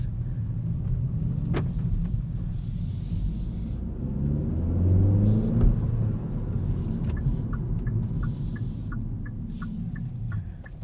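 A 2019 Hyundai Elantra GT N Line's 1.6 engine with a 6-speed manual gives a steady, close low rumble from inside the cabin while driving, swelling briefly midway, with faint clicks overhead.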